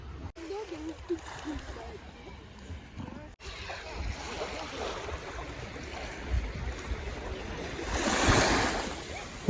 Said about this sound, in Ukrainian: Гуляю біля моря